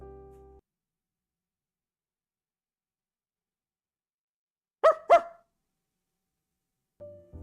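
A dog gives two quick, sharp barks in close succession, loud and near, set between stretches of silence with brief snatches of other sound at the start and end.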